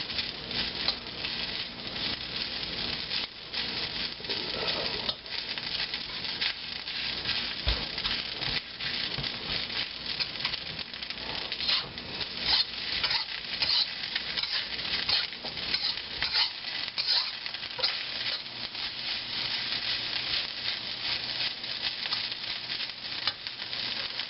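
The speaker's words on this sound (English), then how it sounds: "you fry the rice a little longer" Fried rice sizzles steadily in a hot pan, a constant crackling hiss with occasional stirring and utensil taps, running on without speech.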